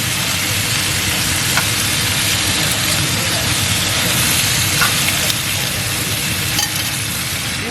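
Chicken pieces browning in a pan give a loud, continuous sizzle and crackle with faint stirring clicks throughout.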